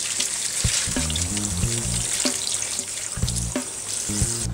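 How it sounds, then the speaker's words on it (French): Hibiscus flowers for bissap being rinsed in water, a steady broadband wash of running, splashing water with low clunks and knocks of handling throughout, close and fairly loud, no talking. "Mes fleurs sont rincées."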